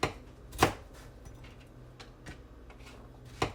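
Knife chopping celery and carrots on a cutting board in a home kitchen, a few sparse sharp chops spaced irregularly, fairly quiet with soft room noise between.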